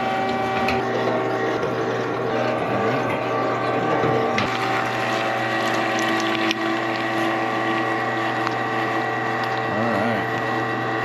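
Electric meat grinder running as it grinds frozen pork fat for rendering into lard, a loud steady mechanical whir with grinding, rattling undertones throughout, no talking.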